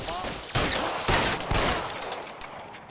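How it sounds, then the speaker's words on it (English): Gunfire in a shootout in the video game L.A. Noire, a few sharp reports spaced about half a second apart amid noisy, reverberant game sound. "Time for a shootout."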